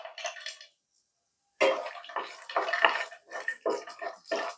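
Cashew nuts fry in hot ghee in a pan, giving loud crackling sizzle bursts, a brief hush, then a dense run of popping, spitting sizzles up close.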